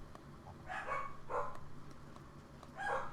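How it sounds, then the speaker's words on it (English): Dogs bark indoors, a few separate muffled barks spaced over a few seconds, moderately loud against a quiet low hum, with no talking. "I think they're barking at a dog outside."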